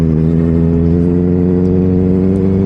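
A Benelli 600i motorcycle with an Ixil L60 exhaust revs loud and close, a deep steady engine roar with rich harmonics held throughout.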